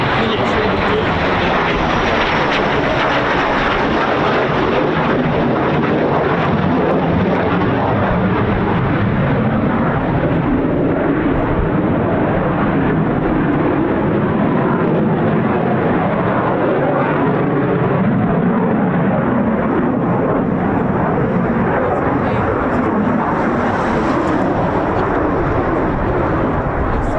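A Eurofighter Typhoon FGR4 jet roars steadily at RAF Coningsby, a loud, continuous, broadband engine rumble that stays unbroken for the whole stretch.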